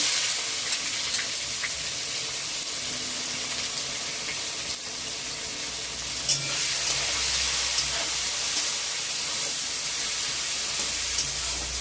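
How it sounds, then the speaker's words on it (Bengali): Chopped onions hit hot oil already tempered with bay leaf, cumin, dried red chillies and cardamom for a mutton curry, giving a loud, steady sizzle with occasional stirring scrapes and no talking. "ভাজা হওয়ার পর এখন দিয়ে দিচ্ছি পেঁয়াজ কুচি"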